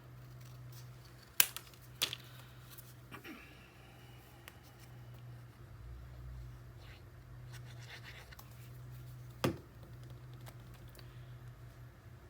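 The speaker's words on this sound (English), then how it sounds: "So I'm going to trim just a smidge more off." Scissors make a few quiet, brief snips trimming paper for a mini album, spaced apart with soft handling rustles in between, close and faint against a low background hum.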